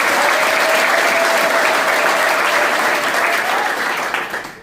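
A church congregation applauds loudly, dense sustained clapping that holds steady for about four seconds before tapering off at the end.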